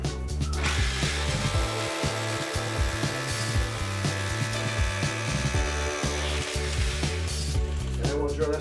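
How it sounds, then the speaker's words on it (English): Power drill boring into a brick fireplace wall to mount a TV, a steady loud motor whine with a grinding, chattering rhythm, then slowing near the end. "so I'm gonna go ahead and drill this one over here."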